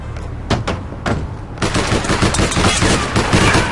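Loud automatic gunfire in the online action game APB: a few single shots, then a sustained rapid machine-gun burst, close and dominant.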